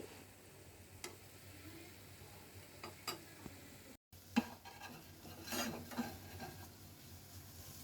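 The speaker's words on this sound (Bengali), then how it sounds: "এখানে অল্প তাপে শুটকিগুলো আমি ভেজে নিচ্ছি" Dried fish frying over low heat in a pan, a faint, steady sizzle with a few soft scrapes and clicks of a utensil against the pan.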